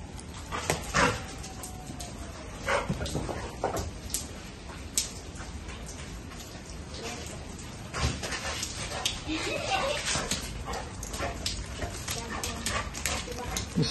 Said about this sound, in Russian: И собака рада.